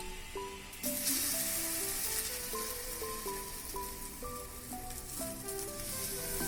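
Egg paratha sizzles in mustard oil on a hot tawa: a steady, close frying hiss that swells after the first second and continues under soft background music.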